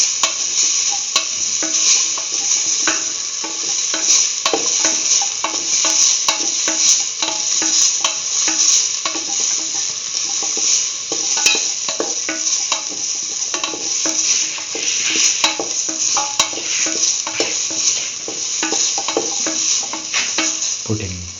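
Curried tomato, beetroot and coconut stew being stirred with salt in a pan, a steady wet sizzle with soft scraping strokes running continuously and close, no talk.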